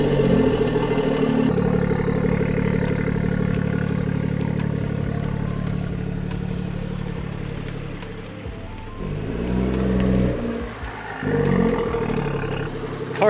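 A car with a B58 engine and aftermarket intake sits at a low idle with a deep, steady drone, then gives a couple of short revs that swell and fall back, close and fairly loud.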